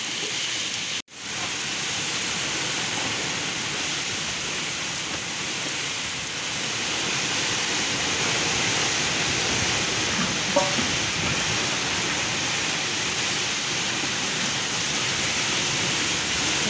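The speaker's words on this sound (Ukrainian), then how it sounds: "Ай-яй-яй, дощі капає" Heavy rain pours steadily through a thunderstorm in Ukraine's Rivne region, a dense, continuous hiss of water on surfaces that stays loud and even throughout, with a brief dropout near the start.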